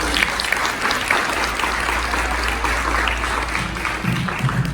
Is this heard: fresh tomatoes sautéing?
no